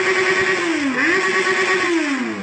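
A motorcycle in the battle royale game Free Fire rides continuously with a loud, close engine drone whose pitch dips and rises as the bike shifts speed, heard alone without talk.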